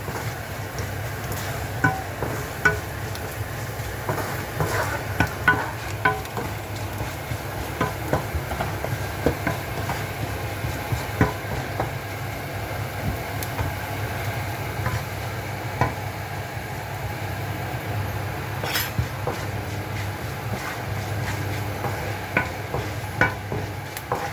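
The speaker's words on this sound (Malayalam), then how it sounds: "എന്നിട്ട് നല്ലതായിട്ട് ഇളക്കുക" Fenugreek seeds fry in hot oil for a Kottayam-style fish curry, giving a long, steady crackle with scattered small pops and stirring clicks over a constant low hum.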